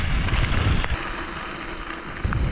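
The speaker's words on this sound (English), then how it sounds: "it's starting to be really rainy" Steady rain patters and hisses across a surface, fairly close and continuous, with a couple of brief sharper knocks.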